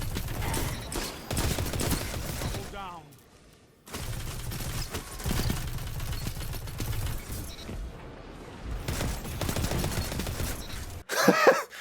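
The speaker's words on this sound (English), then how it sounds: "your rate of fire on that weapon will drastically increase, resulting in this" Rapid automatic weapon fire in a video game from a gun boosted by the Cascade Point perk, a dense, fast stream of shots in bursts with brief pauses, followed by a short sharper burst at the end.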